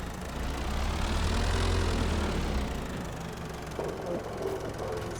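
A small truck's engine idling in Farming Simulator 22, a low rumbling drone that swells slightly then eases, joined later by a lighter mechanical hum and faint knocking, steady and close.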